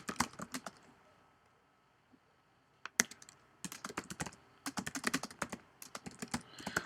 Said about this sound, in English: So I just typed a bit of content there